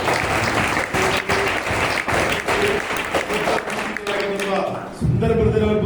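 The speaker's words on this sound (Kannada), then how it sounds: "ಅವರಿಗೆ ಜೋರ ಚಪ್ಪಾಳೆ" Loud, sustained applause from a church congregation, dense clapping filling the hall for several seconds and then thinning, while a voice speaks over it.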